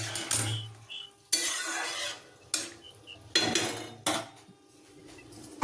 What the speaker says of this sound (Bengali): খুব ভালো করে জলটার মধ্যে আমি এটা নেড়ে নেব